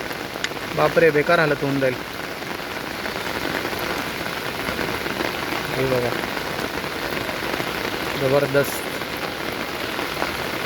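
Heavy rain falls without pause during a fishing outing, a dense, steady hiss of drops hitting surfaces close by, while someone talks excitedly over it at intervals.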